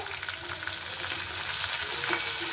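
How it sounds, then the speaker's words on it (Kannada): Fenugreek leaves frying with onion in hot oil, a dense continuous sizzle with soft stirring rustles, close and without voices. "ಈರುಳ್ಳಿ ಫ್ರೈ ಆಗಿದೆ ಮೆಂತ್ಯ ಸೊಪ್ಪು ಹಾಕೊತ ಇದ್ದೀನಿ"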